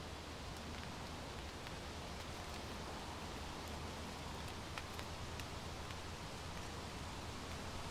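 Rain patters through a forest around a bushcraft bivouac campsite during a storm, a dense, even hiss of drops on leaves and tent fabric, steady and close throughout with no talking.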